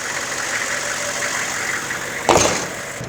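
Idling 6.5 turbo diesel V8 in a 1997 AM General Humvee, a steady, loud, close clatter with a brief louder knock or thump near the end.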